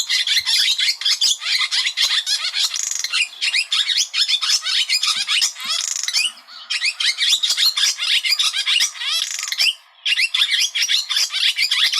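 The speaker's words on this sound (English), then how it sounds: "here's the song of the barn swallow" A barn swallow sings a long, rapid, continuous run of twittering chirps and warbles, close and clear, with two brief pauses.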